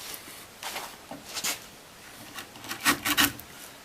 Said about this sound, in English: Now we're paring away, and we're paring uphill, so there should be a little hump in the middle.